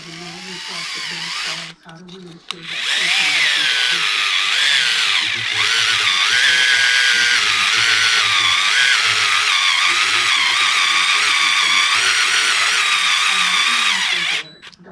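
A power drill drives screws into a Traxxas X-Maxx RC truck, its loud, steady whine running close and continuous for most of the clip after a brief stop near the start, with no talking.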